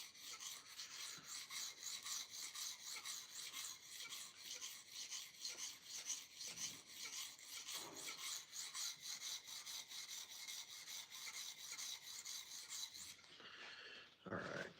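A knife drawn steadily back and forth across a sharpening stone makes a continuous, close rasping scrape with a repeated stroke rhythm. The sound runs alone for about thirteen seconds before breaking off briefly.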